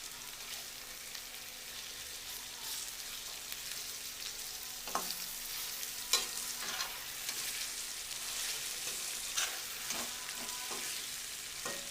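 Stuffed eggplant frying in hot oil, a soft steady sizzle that crackles on quietly, broken now and then by a faint clink; no voices.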